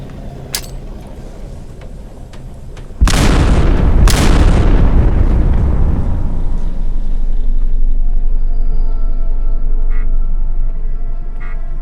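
A huge explosion booms after a warning call, setting off a long, heavy low rumble that swells and keeps roaring for several seconds, with a second blast layered in early; no voices are heard during it.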